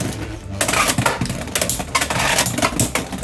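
Beyblade X tops Steel Samurai and Talon Ptera clash in a plastic stadium, a close run of sharp metallic clicks and rattling collisions with no voices.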